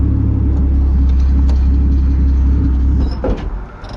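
A 2JZ-swapped Nissan 240SX drift car idles with a steady, loud low rumble that carries close and unbroken, then dips and stutters near the end as the revs drop.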